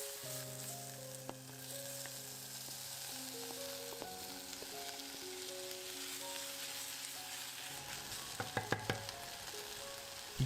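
Chilies and tomatoes sweating in oil in a pot with paprika, thyme, tomato paste and sugar, a steady soft sizzle with light spits and a few clinks toward the end, with faint background music.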